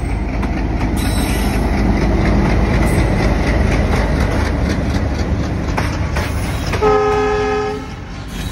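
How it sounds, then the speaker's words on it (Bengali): A freight train with few wagons rolls past on the Darshana–Gede border line, a loud, close rumble and rattle with wheel clicks, and a long horn blast near the end. "মানে এটা অবশ্যই পণ্যবাহী একটা ট্রেন"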